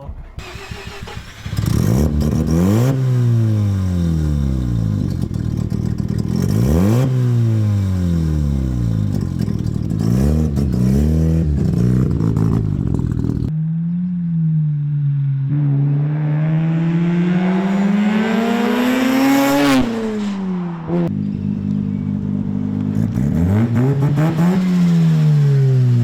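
A V12-swapped Ford Mustang engine revs loudly and repeatedly up close, each rising whine climbing and falling in pitch, followed by longer sustained accelerating pulls.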